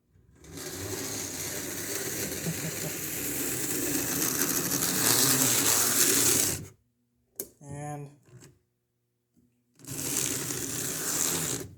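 A model railroad locomotive runs on a layout test session, a steady mechanical whirring and rattling that builds over several seconds before cutting out, followed by a brief voice and a return of the running noise.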